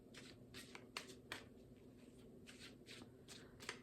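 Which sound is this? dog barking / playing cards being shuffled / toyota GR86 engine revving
playing cards being shuffled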